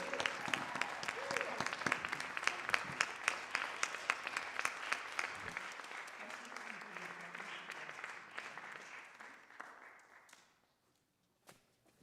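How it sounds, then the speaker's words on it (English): An audience at a jazz vespers church service breaks into sustained applause for the jazz musicians, including bass guitar and drums players, loud and dense for about ten seconds before thinning out and stopping, with a few claps after. "Let's give our maestro, Mr. Lanny Hartley, big round of applause"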